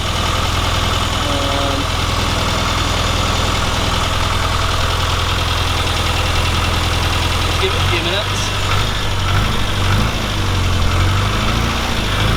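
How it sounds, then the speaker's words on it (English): A Classic Mini 1275 SPi car engine idles while warming up after a water pump replacement, with a steady low rumble and vibration, while a person talks briefly over it. "as the engine's turning over and warming up"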